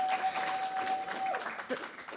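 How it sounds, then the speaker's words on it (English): An audience at a poetry fellows reading applauds indoors. The clapping is dense but fairly soft and steady, with a faint steady tone running beneath it. "That applause should be reserved for the beautiful souls that are in this room."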